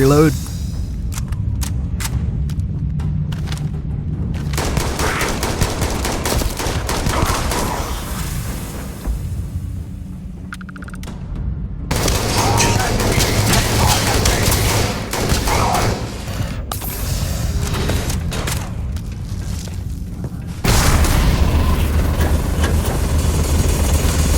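Heavy gunfire from the video game Starfield, dense and loud, with sustained volleys and booms filling most of the stretch, broken by a couple of brief lulls, while a voice talks over the shooting.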